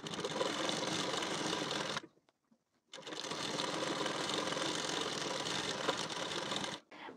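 A sewing machine stitching a blouse belt piece runs in a steady, close mechanical whir, stops for about a second, then starts again and keeps going before a brief pause near the end.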